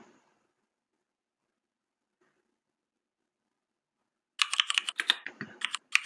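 A git command is typed on a computer keyboard, giving a quick burst of close, crisp keystrokes after several seconds of near silence, with no talking.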